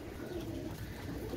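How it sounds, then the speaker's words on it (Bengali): A Pakistani Motiwala pigeon coos softly, a low, faint, rolling murmur that runs steadily beneath quiet room noise. "এটা হচ্ছে পাকিস্তানি মতিওয়ালা কবুতর"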